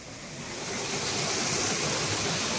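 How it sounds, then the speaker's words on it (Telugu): Water rushes steadily through an irrigation channel carrying it out to farm fields, a loud, continuous broadband roar that swells slightly in the first second and then holds even, with no voices. "ఇప్పుడు ఆ వాటర్ అంతా పొలాలకు అలా డిస్ట్రిబ్యూట్ అవుతూ ఉంటుంది"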